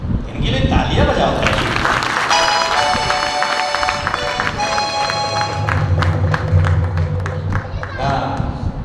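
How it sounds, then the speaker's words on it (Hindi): An audience at an evening Jain sermon claps for a participant, steady crowd applause running through the clip, mixed with a voice speaking and some tonal background sound. "इनके लिए तालियां बजाओ।"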